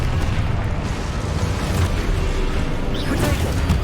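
A Confringo blasting spell explosion in Hogwarts Legacy, heavy rumbling low-end blast noise sustained and loud across the whole stretch, with fainter crackling bursts near the end, no clear speech.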